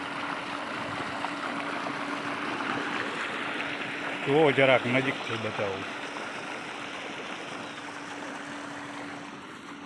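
An electric motor pump draws water from a well on a farm plot. Its steady low hum runs through a constant rush of flowing water, and someone speaks briefly midway.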